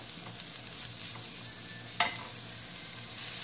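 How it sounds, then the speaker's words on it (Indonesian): Garlic frying in about three spoonfuls of oil for instant noodles with vegetables, a steady soft sizzle with faint stirring scrapes and one sharper clack midway, close by and without talk. "Setelah itu kita tumis sampai harum"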